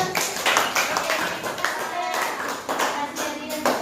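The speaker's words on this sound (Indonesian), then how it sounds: "Tepuk tangan dulu." Hands clap together in a classroom-style group, a steady burst of close, overlapping claps filling the moment with voices mixed in.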